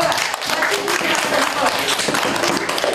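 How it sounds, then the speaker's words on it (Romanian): A first-grade class claps for a classmate, dense children's applause filling the room for a few seconds, close and steady, with voices talking over it. "Bravo, aplaudă-și pe Nicola!"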